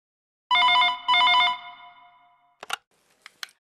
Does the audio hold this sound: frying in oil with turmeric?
no